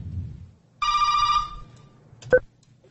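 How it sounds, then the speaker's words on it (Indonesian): A telephone ringing in a radio studio during a live streaming broadcast, one electronic trill of about three-quarters of a second, then a short sharp chirp, close and clear with no speech over it. "Ini ada telepon, kita mau angkat dulu nggak, Riko?"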